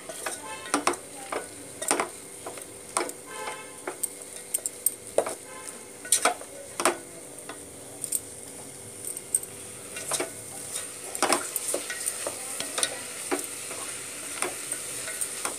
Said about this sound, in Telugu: ముందు ఈ ఉల్లిపాయ ముక్కలు బాగా ఫ్రై అవ్వాలి